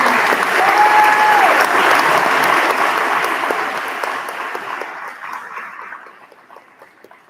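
An awards-night audience applauds the state scholars, a dense burst of clapping that starts full and gradually fades toward silence.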